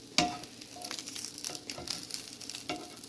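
Costco gyro meat slices fry in a pan, giving a steady close sizzle with a few louder crackling bursts and utensil scrapes, with no talking.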